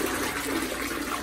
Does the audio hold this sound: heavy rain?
no